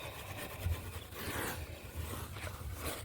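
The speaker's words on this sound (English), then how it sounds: "just rubbing it in each crack, just rubbing it really good, and going over and over." Hands rubbing material into the cracks of a large outdoor wooden chessboard, a quiet rasping, scrubbing sound repeated in back-and-forth strokes.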